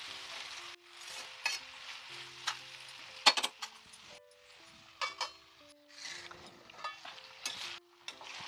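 Curry leaves and asafoetida sizzling in hot oil in a pan, a soft crackling fry with a spoon stirring and clinking against the pan now and then, close and fairly quiet.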